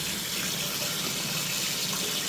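Watery mustard paste strained through a sieve while the husks are held back, a steady close trickle and splash of liquid running on without a break and with no talking.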